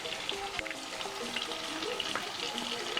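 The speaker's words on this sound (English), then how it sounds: "It's frying perfectly, just the way I want it to." Fish frying in a pan gives a steady close sizzle with crackles and faint scraping or stirring underneath; no talking.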